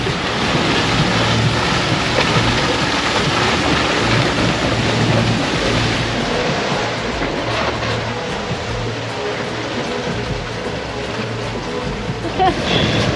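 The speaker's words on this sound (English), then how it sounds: "We're downwind sailing and making what, 6? Almost 7 knots." Waves rushing and slapping against the hull of a sailboat running downwind at nearly seven knots off the Turkish Riviera, in a steady, loud wash of water and wind with no talking.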